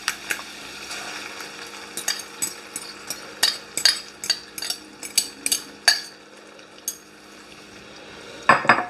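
Eggs are scrambled with a metal fork in a hot non-stick pan, giving quick, irregular clinks and scrapes against the pan over a soft sizzle.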